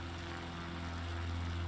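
A Scout bush plane, the small propeller aircraft fitted with floats, flies over water, giving a faint, steady engine drone from a distance with no other sounds.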